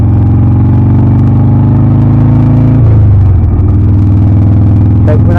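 A 2006 Harley-Davidson Sportster motorcycle engine runs loud and close at low RPM on a West Virginia road, a heavy steady throbbing rumble that shifts pitch partway through.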